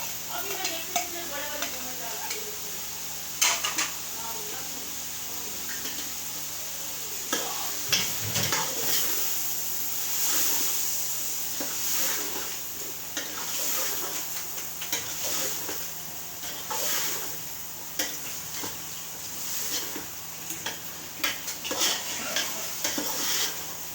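Capsicum and cabbage frying in a pan for egg ghotala, a steady low sizzle throughout with repeated scraping and stirring clinks of a utensil against the pan, close and moderately loud, with no talking.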